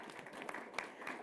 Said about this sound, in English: So big applause for your new job.